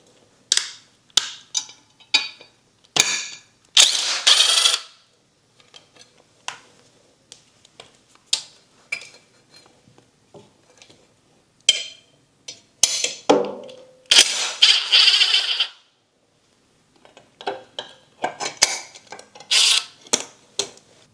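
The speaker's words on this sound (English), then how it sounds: "A 5mm Allen is used to release two screws, this one and" A 5mm Allen key works loose two screws on a Triumph Scrambler 400X during a sprocket swap. Sharp metallic clicks and taps come close and uneven, in scattered clusters with quiet gaps between them.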